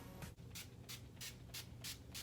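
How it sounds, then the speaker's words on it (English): Makeup setting spray misting in about seven quick, evenly spaced bursts, each a short close hiss. "setting spray"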